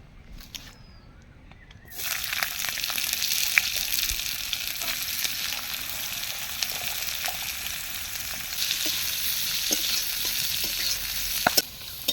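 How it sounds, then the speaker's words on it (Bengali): Onions frying in hot oil in a wok for egg biryani, a steady, close sizzle that starts after about two seconds and continues with faint stirring scrapes and occasional clicks, with no voices. "কড়াই গরম হয়েছে, আমরা তেল দিয়েছি, এবার পেঁয়াজ বেরেস্তাটা করে নিচ্ছি।"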